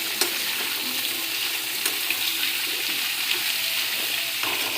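Thinly sliced radish fries in a pan with a steady, close sizzle and faint stirring scrapes throughout, no voices.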